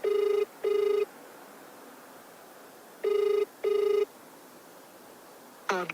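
A phone call ringing unanswered, the ringback tone sounding in two pairs of short electronic double beeps with a pause between, over a faint line hiss, then a brief burst of a recorded message starting.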